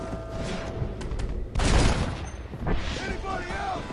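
Gunfire in the video game Red Dead Redemption: a dense burst of shots lands mid-clip, loud and broadband, amid steady game ambience with some voice activity around it.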